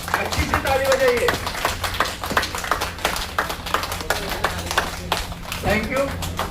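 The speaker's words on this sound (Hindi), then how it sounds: "अच्छी से ताली बजाइए।" A crowd at a children's ceremony claps energetically in sharp, rapid bursts of hand claps, with a voice speaking over the applause now and then.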